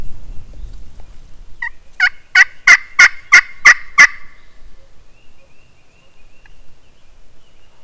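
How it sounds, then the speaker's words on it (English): A wild turkey on public land in Ohio gobbles once: a rapid, loud rattling burst of about six pulses, fairly close and clear. Quiet woodland follows, with no talk. "He just gobbled right back to me."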